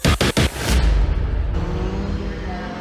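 Pre-83 Group 1 touring cars on a racing circuit: a few sharp engine bursts at the start, then a loud, sustained engine roar with a passing car fading slightly, no voices.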